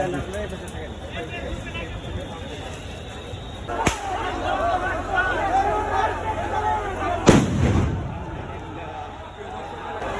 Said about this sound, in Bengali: সাউন্ড গ্রেনেড নিক্ষেপ করা হচ্ছে এবং বর্তমান ব্যবহার করা হচ্ছে তাদেরকে সরানোর জন্য। রাবার বুলেট নিক্ষেপ করছে